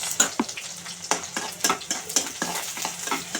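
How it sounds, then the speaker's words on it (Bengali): Chopped onion, garlic and dried red chili fry in oil for a mixed greens dish, a steady close sizzle punctuated by repeated scraping strokes of a spoon stirring the pan. "দিয়ে ভালো করে ভেজে নিচ্ছি দেখেন এইভাবে লাল লাল ভাজা হয়ে আসলে শাকটা দিয়ে দিব"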